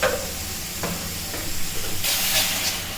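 Spice paste of Kashmiri chili, cumin and coriander powder sizzling in a pan after a splash of water, a steady hiss with a louder burst of steam near the end.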